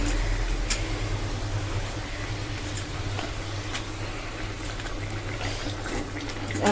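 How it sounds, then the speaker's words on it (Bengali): Water poured into a simmering curry, a continuous steady splashing and bubbling that stays even and fairly loud throughout. "তো এবার একটু জল দিয়ে দেবো"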